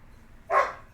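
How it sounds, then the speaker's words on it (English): A single short dog bark pops out sharply after a quiet lead-in, near and moderately loud, lasting under half a second. "Do my dogs need to be quieter?"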